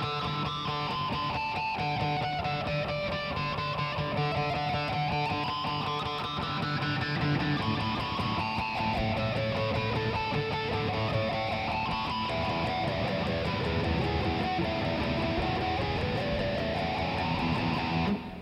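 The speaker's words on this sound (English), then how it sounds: "see I got a harmonic there, then I can move it up and down the string, and you'll notice that the pitch will change" Distorted electric guitar sustains screaming artificial pinch harmonics, the squealing pitch sliding up and down continuously as the pick moves along the string, loud and unaccompanied throughout.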